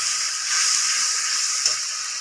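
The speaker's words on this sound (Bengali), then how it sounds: "জল দিয়ে আর একটু ভাজা ভাজা করব।" Potatoes and spices fry in a pan for a chickpea-and-potato ghugni, giving a steady, close sizzling hiss with one brief sharper crackle near the end.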